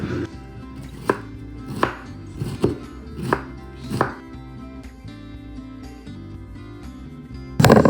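A knife chops a vegetable on a cutting board while cooking for an Onam meal: about six firm, evenly spaced knocks, a pause, then one more loud cut, close and alone.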